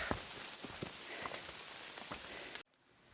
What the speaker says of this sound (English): It's rain, lovely rain.